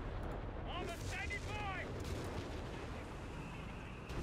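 Artillery shells pounding a blob of tanks in a World War II tank video game, several booming impacts over a few seconds with someone talking excitedly over the barrage.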